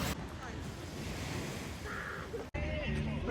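Steady rush of sea surf at Odessa in the evening, with wind noise blowing across the microphone, continuous and fairly close, with a brief dropout near the end.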